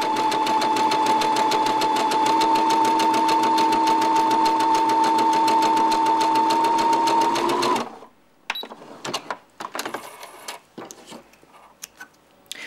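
A sewing machine stitches a seam in one steady, fast, even run of motor whir and needle ticking for about eight seconds, then stops, followed by a few faint clicks and handling noises.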